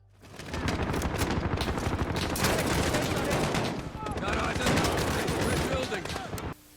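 The Odin 12.7mm .50 caliber assault rifle in Call of Duty fires in loud, rapid sustained bursts. Continuous gunfire runs for about six seconds with a short dip midway, then cuts off abruptly.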